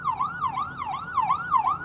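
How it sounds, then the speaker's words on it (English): Fire truck siren wailing loud and near, its tone sweeping up and down in a regular repeating cycle of about two sweeps per second, with road noise beneath and no speech. "I got a fire truck, so I got to stay still."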